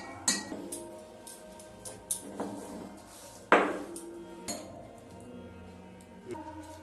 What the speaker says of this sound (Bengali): ভালো করে মিক্স করে নিচ্ছি ওটাকে দুধের সাথে।